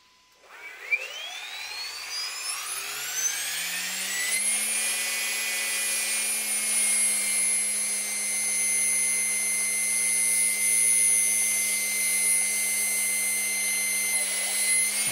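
An RC helicopter motor with an MSH iKon2/Brain2 governor spins up from silence, its whine rising over about four seconds and then holding a steady, even pitch at idle-up headspeed.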